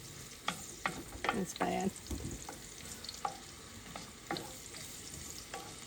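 Ground turkey and onions fry in a little oil in a pan, crackling steadily while a spoon scrapes and stirs in repeated strokes, close and moderately loud, with a brief spoken remark partway through.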